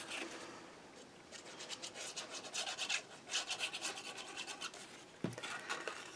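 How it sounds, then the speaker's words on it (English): Bone folder burnishing paper onto a Stamperia tri-fold craft album, a steady rasping rub in repeated short strokes, close and fairly quiet, with a brief knock near the end and no talking. "I'll burnish, and then I'm going to burnish that down."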